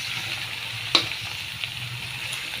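Cabbage and pork stir-frying in a pan, a steady hiss of sizzling oil with a sharp clack of the utensil near the start and a softer scrape later, close and continuous without talk.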